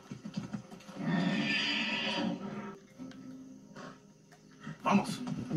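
A horse in the video game Far Cry 6 whinnies loudly in a long, wavering neigh, followed by a shorter snort, with a voice talking over parts of it.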